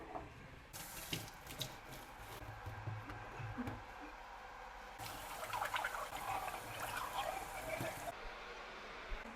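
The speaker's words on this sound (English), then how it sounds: "So I'm going to wash the cup while the water is boiling." Tap water runs into a sink while a cup is rinsed under it, a steady splashing hiss that gets louder and brighter midway as the cup meets the stream, with soft clinks and some quiet talk.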